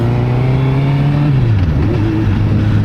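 A BMW motorcycle with a single-sided swing arm passes by on a rough road, its engine note loud and steady, then dropping in pitch as it goes past and moves away.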